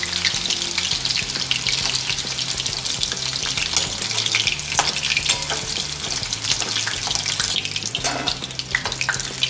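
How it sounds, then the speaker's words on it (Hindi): Chicken pieces for chilli chicken fry slowly in hot oil with a steady, dense sizzle and crackle throughout, close and fairly loud with no talking over it. "हम इसे स्लो पे फ्राई कर रहे हैं ताकि इसमें का सभी मॉइस्चर निकल जाए और ये अच्छे से क्रिस्पी बने।"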